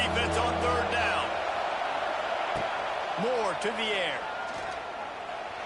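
A stadium crowd roars steadily in CFB 26 during a UO vs UCLA college football game as the defense lines up on third down, a broad wash of noise beneath continuous play-by-play commentary.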